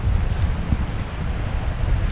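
Icy wind gusting across an exposed Norwegian mountainside, a steady roaring rumble with heavy buffeting low noise on the microphone, continuous and loud, no voices.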